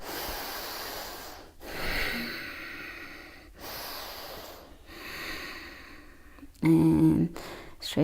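Slow audible breaths during a yoga flow into warrior one, with long airy inhales and exhales repeating close by and a sharper, louder snort-like exhale near the end.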